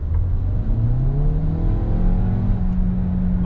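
Audi A3 Sportback 40/45 TFSI e plug-in hybrid, 2020, accelerating in sport mode, its engine note climbing steadily in pitch through the gears, heard from inside the cabin with no talking.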